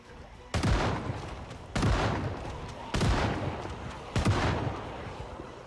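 Gunfire in the Project Zomboid video game, four loud booming shots spaced about a second apart, each with a short decaying tail over faint background.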